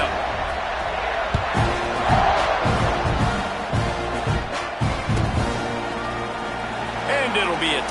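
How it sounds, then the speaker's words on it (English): Football stadium crowd at a Tennessee game roaring steadily before kickoff, a broad sustained swell of cheering with scattered shouts and thuds, near and loud throughout. "this crowd now ready to get behind them"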